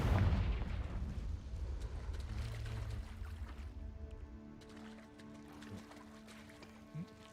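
A deep, booming Confringo fire-spell blast in Hogwarts Legacy erupts loudly at the start, then rumbles and crackles away into a quieter tail.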